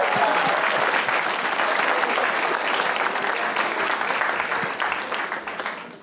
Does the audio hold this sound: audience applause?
yes